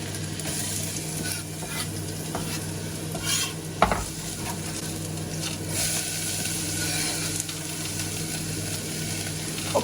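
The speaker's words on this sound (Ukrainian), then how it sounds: "Смажуємо цибулю з морквою." Oil sizzles steadily as onion and carrot fry, with occasional scraping stirs and clinks of a utensil against the pan.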